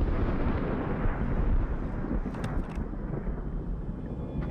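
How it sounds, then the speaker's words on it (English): Low, continuous thunder-like rumble in the deep-sea Abyss area of the SOMA game, steady and enveloping, with a few faint higher ticks and creaks near the end, no talking. "Is it thundering down here?"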